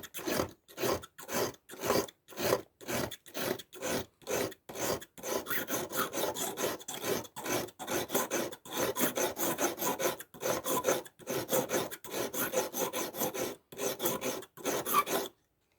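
A Victorinox knife blade drawn through a fine sharpener makes repeated close rasping strokes. Short separate strokes come at first, then longer quicker scrapes follow in a steady rhythm, with no talking.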